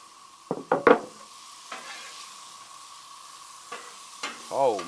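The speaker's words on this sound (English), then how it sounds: "get them to frying up in that butter" Cinnamon rolls hitting melted butter on a Blackstone griddle, with a sizzle under several sharp scraping clatters of a spatula, then quieter frying, more scrapes, and a brief voice at the end.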